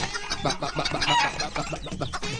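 Chickens cluck and squawk close by in quick, overlapping calls, with one bird's voice rising briefly above the rest.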